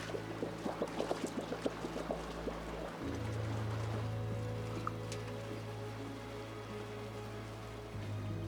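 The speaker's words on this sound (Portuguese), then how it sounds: "temos um verdadeiro riacho de montanha com a água mais fresca e mais gelada bem perto de casa" Cold, fresh mountain stream water near a house, a steady broadband rush and splash running continuously at close range with no voices.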